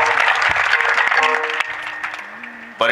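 Gathering at a Marathi kirtan for a housewarming, clapping to welcome an arriving guest, dense applause fading over a few seconds while sustained voices and singing continue alongside.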